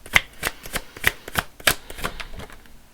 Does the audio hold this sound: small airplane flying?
no